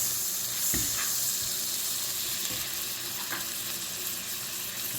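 Two tablespoons of butter sizzling in a skillet previously used for blackened fish, a steady close hiss and crackle with a few soft clinks, no voices.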